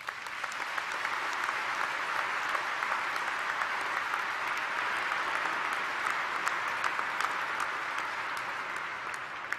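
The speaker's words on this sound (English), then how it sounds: "come to the front of the stage as this audience applauds you" Sustained audience applause fills a banquet hall at an annual gala dinner, steady dense clapping from a large crowd throughout, with no talk over it.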